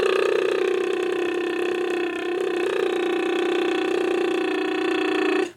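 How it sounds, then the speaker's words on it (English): A sustained lip trill vocal exercise, one steady buzzing, pitched hum held close and loud for several seconds with a slight dip midway before stopping abruptly. "it will help you to sustain the lip trill with more power and control"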